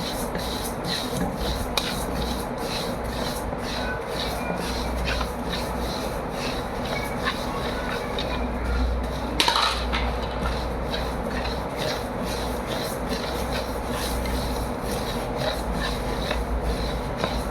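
Native coriander seeds dry-roasting in a hot kadai for biryani masala: a steady dry rustling and scraping as the seeds are stirred, continuous and close, with one brief sharper scrape partway through.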